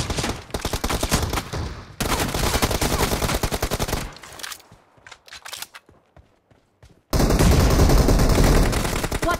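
Rapid automatic gunfire from PUBG Mobile arena team deathmatch rattles in loud dense bursts, breaks into scattered single shots and footsteps, then resumes in a sustained heavy stream.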